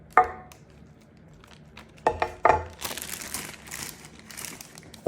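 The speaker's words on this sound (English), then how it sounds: "Just remove the greaseproof paper off the top." Greaseproof paper is peeled off a vegetable fritter turned out onto a board, giving a few sharp crinkles and then a longer bright rustling crackle, loud and close, with no talk.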